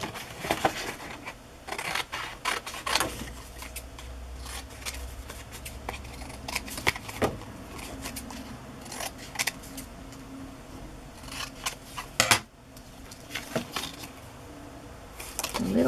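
Scissors cut a piece of printed paper ephemera in short, crisp snips and rustles, close by, with paper handling and pauses in between.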